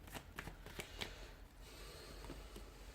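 Tarot cards being shuffled by hand, a few quick riffling snaps and flutters close by, fairly quiet, with a soft room hiss underneath.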